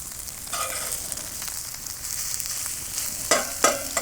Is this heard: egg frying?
yes